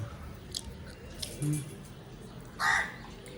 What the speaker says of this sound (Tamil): காக்கா வர கத்திகிட்டே இருக்குது